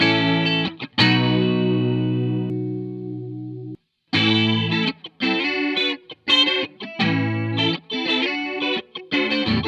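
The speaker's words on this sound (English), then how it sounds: "drive that up and down to get more or less of the chorus sound" Chorus effect from a Safari Pedals Fox Echo Chorus VST plugin on a demo instrument, with rich sustained tones giving way to a string of short notes, loud and dry, no talking.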